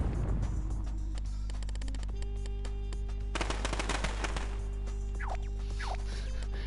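Fireworks in LittleBigPlanet 3 go off in a dense, rapid crackle of popping bursts with a few whistling rises, loud and continuous with no talk over it.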